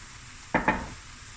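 A tomato and onion mix hits a hot pan in two quick, close bursts of sizzle and scraping, then the cooking fades to a faint, quiet hiss.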